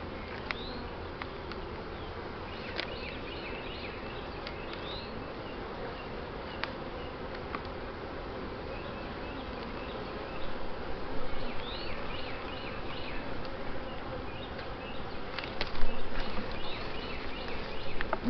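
Honey bees buzz steadily during a hive inspection, frames lifted to check capped brood and laying room while treating for varroa mites; a dense, continuous drone hums throughout, growing slightly louder toward the end.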